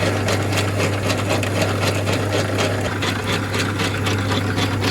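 A Logan 210 metal lathe runs steadily on its drive pulley, a loud constant motor drone with a strong low hum and a busy whirring, rattling mechanical texture throughout.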